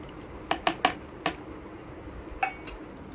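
Chickpeas, sweet corn and chopped vegetables are stirred in a bowl, giving a handful of light clinking taps of a spoon against the dish in a quick cluster and then one or two more, faint and close.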